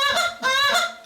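A handheld goose call blown in a cluck-and-moan pattern gives two loud, close, raspy honks with a short break between them, heard alone with no talking.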